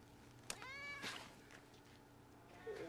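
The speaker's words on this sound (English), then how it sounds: "Oh, that poor little cute Cat." A cat meows in a movie scene, giving two or three short, close meows in quick succession over a quiet background.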